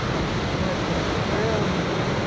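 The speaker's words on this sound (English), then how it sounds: "More waves and more waves." Ocean waves break near a harbor entrance and its sea wall, a steady, loud rush of surf and spray with wind noise buffeting the microphone throughout.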